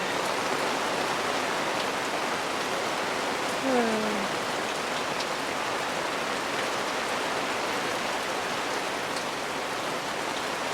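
Steady wet-season rain in Broome, Australia, a dense even hiss of drops on surfaces that continues throughout, with a brief faint tonal sound partway through.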